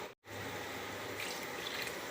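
Water is poured from a glass into a simmering crab gravy, a faint continuous splashing pour after a brief gap.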